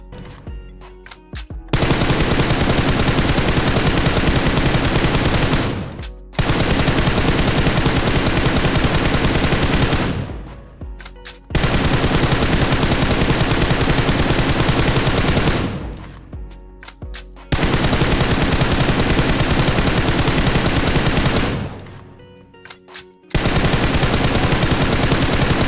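Rapid automatic gunfire from a shooting video game during a jiggle aim drill, loud sustained bursts of several seconds each, separated by short pauses, repeating about five times.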